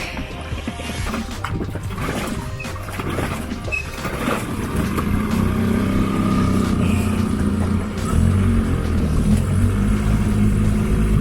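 Sailboat outboard motor starting and settling into a steady, loud running drone, with a rougher, shifting start before the engine evens out and a slight rise in loudness.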